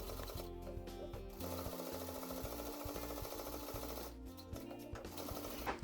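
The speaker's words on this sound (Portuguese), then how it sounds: "Aqui é importante costurar bem devagar e com calma para a costura não sair do risco" A sewing machine runs steadily while stitching heart shapes in fabric for a Christmas craft, a close, continuous mechanical whir with two short pauses where the needle stops.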